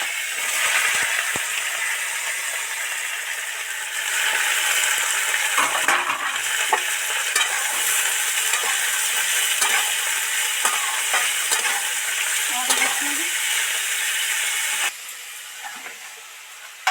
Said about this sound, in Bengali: এই যে ফুলকপি, আলু আর এই মটরশুঁটি জল ঝারিয়ে রেখেছি ওইটা ওর মধ্যে দিয়ে দিচ্ছি